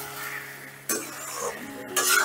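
A spoon scraping and clinking in a pan while pumpkin, potato, rice and peas are stir-fried together; two brief louder scrapes stand out over a low, steady kitchen clatter.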